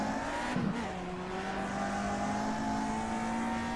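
Race car engines in a racing game recreating the 1966 Belgian Grand Prix, steady whining drone with shifting pitch as cars bunch up and slow, loud and continuous with no talk.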